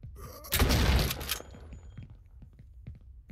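A gunshot burst in the zombie sandbox video game No One Survived, one loud sharp blast followed by quieter thuds and faint movement noises.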